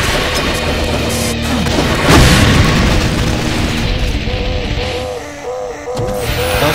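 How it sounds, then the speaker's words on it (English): A tree blown apart by an explosion in Brutal DOOM 2, a loud booming crash around the two-second mark that rolls into dense crackling, rumbling game noise with no talk. "we actually detonated the tree"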